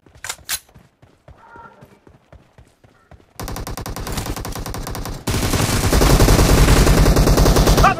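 Gunfire in PUBG Mobile: scattered single shots and short bursts at first, then sustained loud, dense automatic fire that builds in intensity, close and continuous with no talk.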